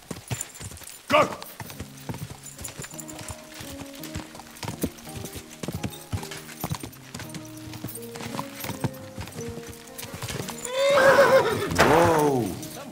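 Horse hooves clip-clop steadily in Kingdom Come: Deliverance II, with a loud whinnying neigh near the end over a soft musical background.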